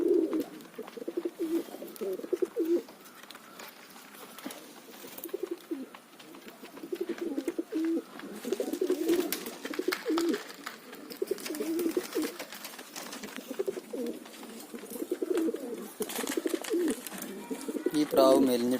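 Pigeons coo in low, throaty, repeated phrases close by, the soft rolling calls continuing through the whole stretch with brief pauses and a little faint background noise.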